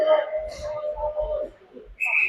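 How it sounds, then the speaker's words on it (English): A referee's whistle in an ice hockey game sounds to call icing, a short shrill blast at the start and another near the end, with a commentator talking in between over arena noise. "we get a whistle for icing"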